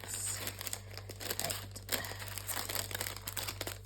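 Plastic packet of die cuts crinkling as it is handled during a craft supply unboxing: close, irregular rustling and crackling bursts over a steady low hum, with a single brief spoken word.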